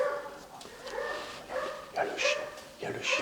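A vagrant's dog barks and yips in short bursts, several sharp barks spaced through the clip, moderately close, with some faint voice-like sound around them.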